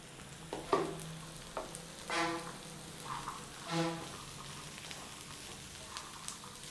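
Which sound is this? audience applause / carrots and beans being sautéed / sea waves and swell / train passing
carrots and beans being sautéed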